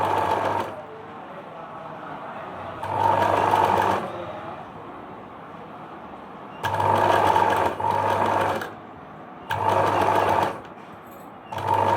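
An electric sewing machine stitches the lining of an Anarkali chudithar in repeated bursts, each a steady rapid whirring run of a second or two with pauses of quiet between, close and fairly loud, with no talking.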